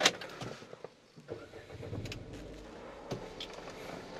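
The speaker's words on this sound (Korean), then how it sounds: "시동 한번 걸어볼게요" An LPG-fuelled Renault Samsung New SM5 engine cranks and catches, settling into a quiet, smooth idle inside the cabin, with a few faint clicks near the start.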